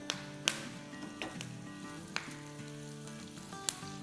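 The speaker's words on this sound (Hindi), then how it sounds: "और अब इसमें हम डाल देंगे थोड़े से कड़ी पत्ते" Curry leaves tempering in hot oil for toor dal tadka, a steady close crackling sizzle with a few sharp pops scattered through, no voices.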